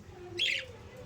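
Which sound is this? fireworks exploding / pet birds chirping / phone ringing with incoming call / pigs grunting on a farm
pet birds chirping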